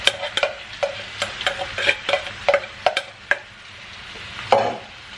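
Rice is stirred into a pan with shrimp and chorizo, a run of sharp, rhythmic spoon scrapes and knocks over a faint sizzle, then a quieter stretch and one last clatter.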